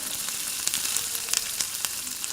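Small pieces of chopped onion fry in oil in a pan after a tempering of dried red chilli and whole cumin, giving a close, steady sizzle with scattered crackling pops and no talking.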